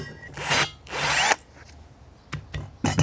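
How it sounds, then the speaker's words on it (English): A power drill whirs in two short bursts drilling a drainage hole in a plant pot, then a few quieter scraping and clunking sounds follow, close by. "I need to drill a drainage hole in it"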